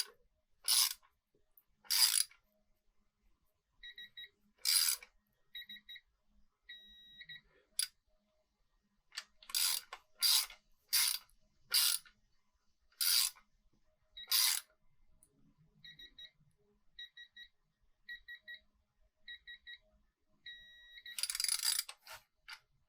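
A ratchet clicks in quick bursts while bolts are tightened on a DT466E diesel engine during a rebuild, several separate runs of sharp close-up clicking with quiet pauses between, and a faint beeping now and then.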